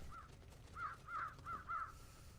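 Birds cawing in the point-and-click adventure game Trüberbrook: five harsh, crow-like caws in an uneven row, fairly faint and distant, with no talk over them.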